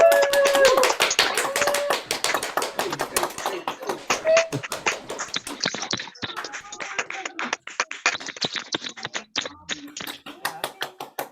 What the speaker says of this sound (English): And clap, clap, clap,